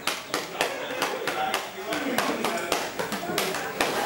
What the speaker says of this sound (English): That table is a musical instrument. If I start going...